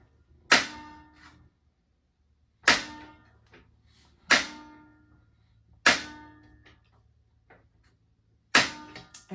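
RV propane stove burner igniter clicking in a motorhome kitchen, five sharp isolated clicks spaced a second or two apart, close and fairly quiet, each with a brief ringing decay.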